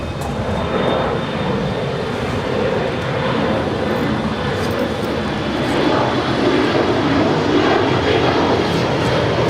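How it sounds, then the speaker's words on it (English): Alaska Airlines 737 MAX 9 in Orca livery at Los Angeles airport, a steady, fairly loud jet engine rumble and roar holding across the whole stretch, with no talk. "we also have the special livery with Alaska, the Orca livery, heading to Seattle"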